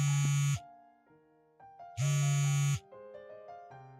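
A phone rings unanswered in a domestic scene, two loud electronic ring bursts about a second and a half apart, with softer melodic tones in between.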